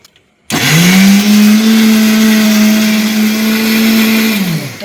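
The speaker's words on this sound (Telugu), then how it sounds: "ఉల్లిపాయలు మాత్రం మిక్సీ పెట్టాలండి" A mixer grinder blends onions into a paste for crab curry gravy, roaring to life after a short silence and holding a loud, steady, high whir until it winds down at the end.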